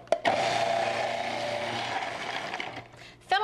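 A Cuisinart food processor whirs as it pulses and shreds fennel, a loud, steady grinding whine running for about three seconds after a sharp start, then a brief gap and another burst at the end.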